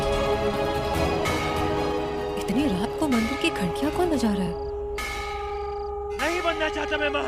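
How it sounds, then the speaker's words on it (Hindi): Temple bells ring at night in a Hindi drama scene, sustained metallic tones humming under a man's anxious speech, with sharper strikes breaking through near the end. "इतनी रात को मंदिर की घंटियां कौन बजा रहा है?"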